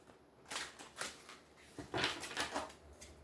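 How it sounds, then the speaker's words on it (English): Soft papery riffling in a few quick bursts as a deck of tarot cards is shuffled, close by and quiet, with short pauses between. "One more shuffle."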